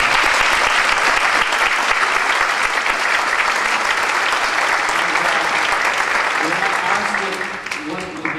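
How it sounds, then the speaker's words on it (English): A large audience at a talk on cross-urban creativity and city design breaks into loud, sustained clapping that stays dense throughout before thinning out at the close, with some voices mixed in. "let's give a big round of applause"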